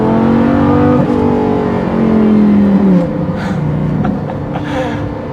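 A Lamborghini Gallardo LP550-2 accelerates hard, with loud, close engine tones that climb through a gear, drop at the shift, then settle into a quieter cruise.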